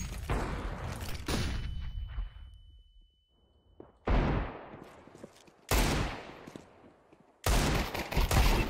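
Gunfire in Counter-Strike 2, several loud, sharp bursts of shots, some in rapid volleys, separated by quieter stretches with faint ringing tails.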